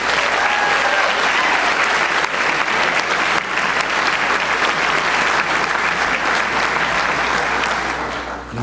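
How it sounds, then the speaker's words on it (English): An audience at a 2006 high school scholarship awards night applauds the United States military: loud, dense, sustained clapping that fills the room and tapers slightly at the end. "How about one last round of applause for our United States military?"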